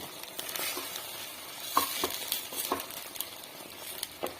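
Sabudana halwa mixture being stirred in a wide pan over a low flame, a faint soft sizzle with scattered scraping and tapping strokes from the spoon, close by and with no talking.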